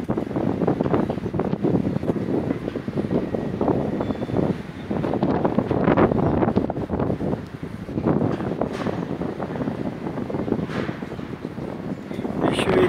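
Strong wind buffeting the microphone at a great height on a swaying structure, a continuous rough roar with gusty surges, loud and close.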